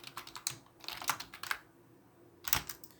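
Computer keyboard typing while an Arduino Uno sketch is written, with quick bursts of close, light key clicks separated by short pauses and a longer gap near the end.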